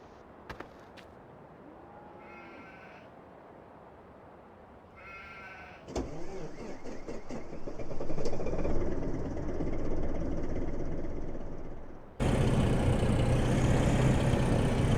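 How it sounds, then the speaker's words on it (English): A loud truck engine in a farming video game starts with a sharp burst and rises into a steady, rough idle that grows louder toward the end, following quieter clicks and mechanical whirs. "That was kind of a loud truck"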